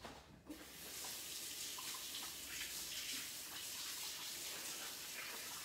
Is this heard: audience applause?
no